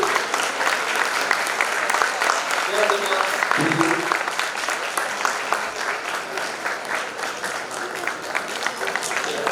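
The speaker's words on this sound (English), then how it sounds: "Give them a huge round of applause, as they say." An audience at a school Model United Nations event applauds in a steady, dense wash of clapping from start to finish, while a voice speaks briefly over it near the middle.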